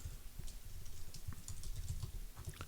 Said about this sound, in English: I'm typing in inhabits.